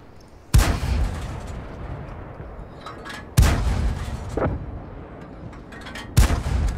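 Three heavy tank cannon shots in World of Tanks, each a sharp, loud boom with a rumbling tail, spaced a few seconds apart, with a smaller thud between the second and third.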